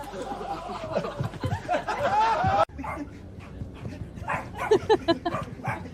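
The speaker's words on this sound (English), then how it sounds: "The dog has taken the hat." A dog barks a few times in an indoor lounge aboard the Hindenburg airship in 1937, with short yips close by over background chatter and laughter, then a sudden drop to quieter room sound.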